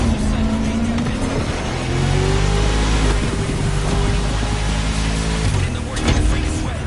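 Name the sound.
1969 Mustang Boss 429 engine revving in video game The Crew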